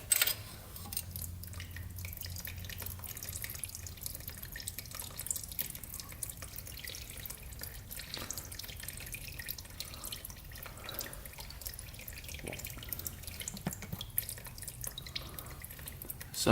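Gasoline drips and trickles out of the engine of a rare 1970s Pacesetter three-wheeler, faint irregular liquid drips and splashes close by over quiet background.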